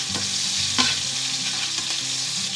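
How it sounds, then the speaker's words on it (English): Garlic and finely chopped green chilies sauté in hot oil in a pan with a steady, loud sizzle and occasional stirring scrapes, with no voices. "I'm just going to saute this till they fry well"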